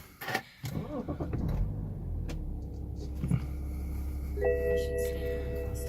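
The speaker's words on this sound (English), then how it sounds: "Just put the key in and start the car." A 2010 BMW 335d E90 LCI M Sport saloon's diesel engine cranks briefly on the starter, then settles into a low, even idle hum, heard fairly quietly from inside the car.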